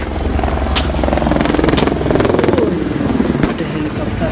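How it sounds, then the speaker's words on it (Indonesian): Helicopter flying overhead during a Malaysian PASKAL naval special forces training exercise, a loud, close, rapid rotor chop with engine roar that stays strong throughout while people talk nearby. "Ada helikopter."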